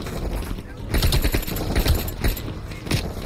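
Gunfire in the Call of Duty: Cold War video game: repeated bursts of shots at close range, firing almost without pause, with someone talking over the shooting.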